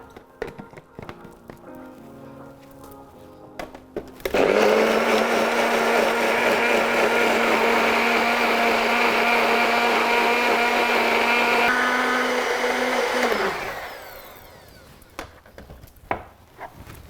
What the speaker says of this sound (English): Get your blender on.